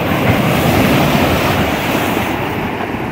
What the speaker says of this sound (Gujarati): ને દરિયો ઘૂઘવાટા કરે અત્યારે.